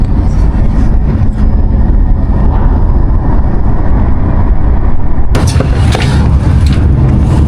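A snow train travelling through Turkey gives a steady, loud rumble of wheels and carriage noise that grows brighter and harsher for the last couple of seconds.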